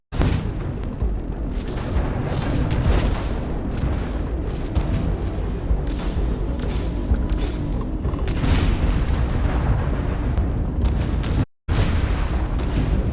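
Spaceship guns fire and explosions boom continuously in Starfield, a dense, loud, rumbling barrage of blasts and bursts with one brief dropout near the end.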